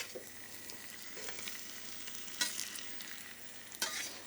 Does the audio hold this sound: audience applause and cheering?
no